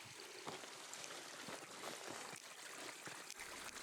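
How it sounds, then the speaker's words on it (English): A small stream flows across a hillside path near the Quiraing cliffs in Scotland, giving a steady, close trickle and burble of running water with no voices. "Small streams cut across the path, harmless today"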